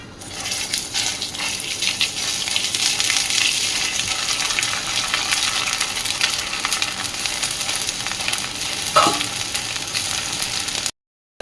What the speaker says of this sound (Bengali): আদাটা একটু ভাজা হয়ে গেছে